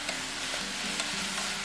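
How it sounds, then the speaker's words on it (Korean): Squid stir-frying in a pan, a short, close, steady sizzle with faint stirring scrapes. "오징어도 맛있게 볶아주세요."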